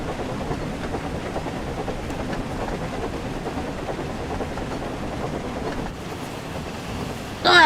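Thomas the Tank Engine rolling along at speed with Percy pushing from behind in the game Thomas and Friends: Wonders of Sodor, a steady rumbling, rattling rail run with wind-like hiss throughout and a louder burst at the very end.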